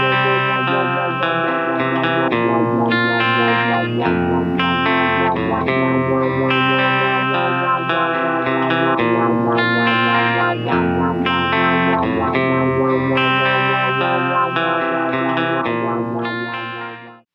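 A Strymon NightSky reverb pedal blends its wet wash with the dry instrument signal, giving sustained, shimmering chordal tones that swell and shift for about seventeen seconds at steady loudness, then fade out at the end, with no voices.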